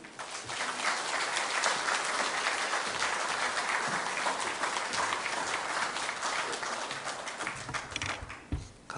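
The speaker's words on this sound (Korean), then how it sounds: "힘찬 격려의 박수, 또 하나님 앞에 영광의 박수 올려드리도록 하겠습니다" A church congregation gives sustained, loud applause to welcome a visiting missionary preacher to the pulpit, with dense steady clapping that fills the room and fades slightly toward the end.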